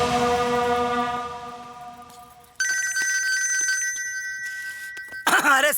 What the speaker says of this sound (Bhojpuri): अरे समधी जी का फोन हो